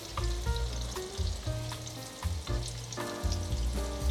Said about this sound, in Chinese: 都翻面了，再让它炸一下